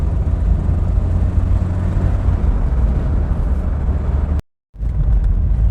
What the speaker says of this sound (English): Oh, we're on to gravel roads again.